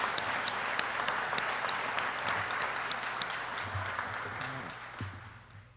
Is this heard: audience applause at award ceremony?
yes